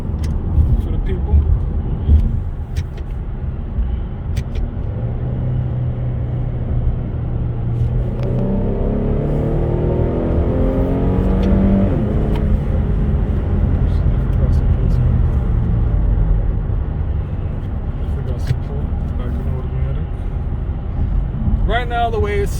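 A 2013 Infiniti G37 x engine rises in a steady revving pull, a loud close rumble that swells in the middle and then settles back, with occasional talk over it.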